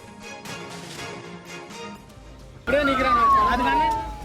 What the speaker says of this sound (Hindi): चारों तरफ एम्बुलेंस की आवाजें गूंजने लगी